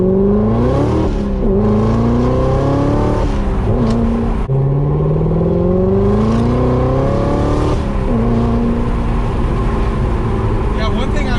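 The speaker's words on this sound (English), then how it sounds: "one thing I will say about the Corsa exhaust on here is that it starts to get a little raspier sooner" A C7 Corvette Z06 with a Corsa exhaust, heard from inside, rises and falls through a series of loud revs with a rasp building as the engine climbs, while people talk over it.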